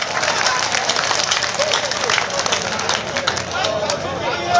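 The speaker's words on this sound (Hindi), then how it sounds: "ऐसे ही अब इसे तालियों में बदल दें" Audience at a mushaira and kavi sammelan poetry gathering breaking into sustained applause, a loud, close crowd of clapping hands with murmuring voices mixed in throughout.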